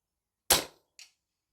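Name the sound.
Daystate Alphawolf air rifle firing a pellet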